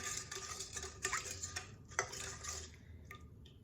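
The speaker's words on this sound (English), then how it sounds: "Give that a little stir." Sugar and yeast mixture for sandwich bread being stirred with a spoon in a bowl, giving a steady run of light scraping and clinking taps, close by and fairly quiet, with no talking.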